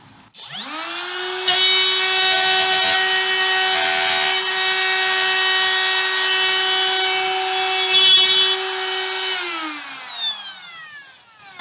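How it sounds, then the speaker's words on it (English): A handheld router freehand routing wood out of a damaged guitar body, spinning up to a loud steady high whine with grinding cutting noise throughout, then winding down at the end. "just using my router to freehand route away some material that's obviously going to have to be removed at some point"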